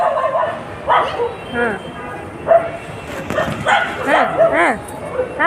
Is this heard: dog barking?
yes